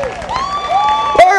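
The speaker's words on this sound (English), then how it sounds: "Everybody, give a nice round of applause for our veterans." Applause and cheering rise from a comedy-club audience in Omaha for veterans standing in the crowd, heard under and around a comedian's voice with a brief burst of shouting near the end.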